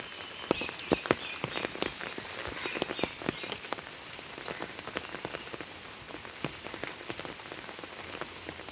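Steady monsoon rain patters on a surface, with scattered louder drips throughout and no voices.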